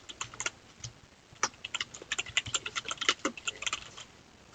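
Quick, uneven bursts of clicking keys on a computer keyboard, typed close and fairly quiet, with short pauses between runs of keystrokes and no voices.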